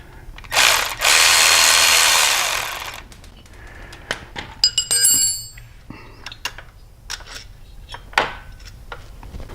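A 1/2 inch wrench works a shift lever bolt loose on a Harley-Davidson Touring motorcycle, opening with a loud sustained burst of grinding noise, then scattered metallic clicks, taps and short ratcheting bursts, close and without talk.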